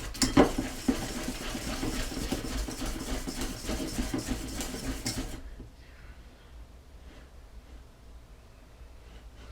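Almond-flour sponge batter for a Joconde biscuit, made with eggs, powdered sugar, honey, flour and butter, being mixed in a bowl with dense, busy whisking and scraping for about five seconds before it drops to a faint background hum.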